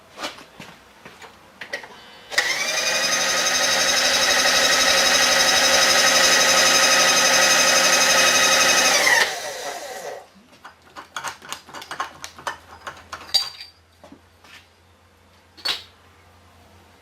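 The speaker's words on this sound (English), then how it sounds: "We're going to put in a chamfer tool and we're going to give just a slight leading edge to create the threads." Metal lathe with a chamfer tool cutting a slight leading edge on a metal part before threading: a loud, steady high-pitched machining whine lasting several seconds, then stopping, followed by clicks and handling noises.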